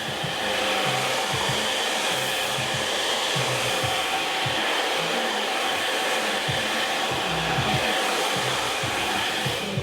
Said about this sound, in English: press your blue button or your cold button, whatever you've got on your hairdryer, and then just let it dry through